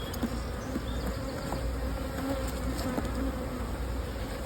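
Honey bees drone inside an opened beehive during a brood chamber inspection, a dense continuous buzz of many insects close by, steady and fairly loud with no voices.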